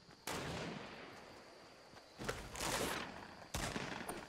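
Gunfire in Fortnite: three separate loud bursts of shots, the first sustained and fading, then a heavier volley and a final sharp burst, with no talk over them.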